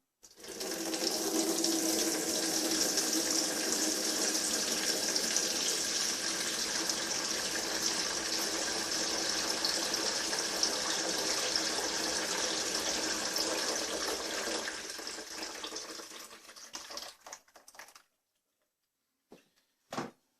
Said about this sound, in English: The first thing we're going to do now is switch this tap on until it stops running.